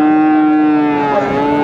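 A Friesian cross bull lets out a long, loud, close moo at a cattle market in Noakhali, one sustained tonal call that wavers slightly toward the end.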